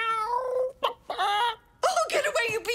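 A cartoon creature that is half chicken, half cat gives a couple of drawn-out, wailing meows close up, broken by short gaps, with a brief voice-like cry between them.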